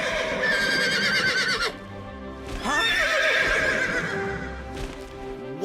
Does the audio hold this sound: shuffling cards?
no